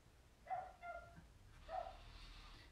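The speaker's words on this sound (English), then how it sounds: "Ignore my neighbour's dogs." Neighbouring dogs bark faintly in the distance, three or so short barks in a loose cluster and then a pause, with no voices over them.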